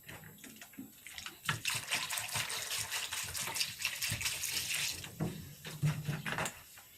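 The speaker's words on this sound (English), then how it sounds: "So I have to put water inside" Tap water gushes steadily into a cooking pot for a plantain and garden egg dish, a loud continuous splashing stream that rises and thickens midway, close by with no talking.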